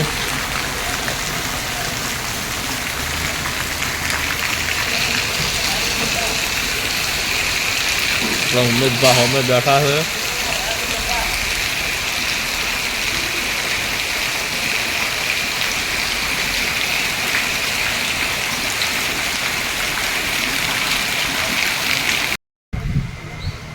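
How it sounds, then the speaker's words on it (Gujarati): Steady heavy rain roars throughout, with a brief spoken exchange partway through and the downpour continuing beneath it. "વરસાદ બંધ થવાનું નામ લઈ નથી ગયું"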